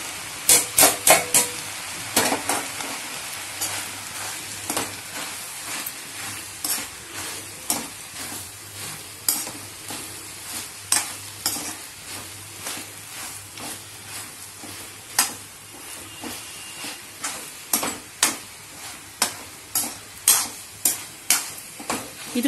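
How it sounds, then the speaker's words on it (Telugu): Corn kernels and mixed vegetables frying in a pan for a curry, with repeated sharp stirring scrapes and knocks every second or so over a continuous sizzling hiss, close and without speech. "మొక్కజొన్న పొత్తు గింజలు కూడా వేసుకున్నాను, వేసుకొని బాగా వేపాలి."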